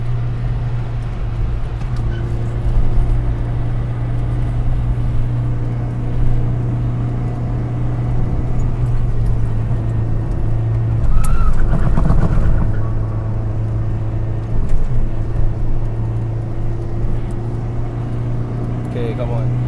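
A Proton Saga hums and rumbles steadily from inside the cabin as it drives and accelerates on a road, with a low engine drone under continuous talking.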